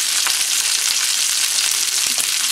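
Sweet and sour sauce sizzling and bubbling in a hot pan as it gets stirred, a steady, loud frying hiss with a few faint scraping clicks and no talking.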